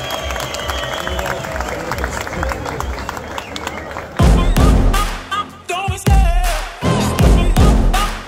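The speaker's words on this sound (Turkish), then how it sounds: "onlara alkışlarımızı gönderelim" A crowd at an outdoor company picnic claps and cheers in loud bursts in the second half, after a stretch of talk over background music.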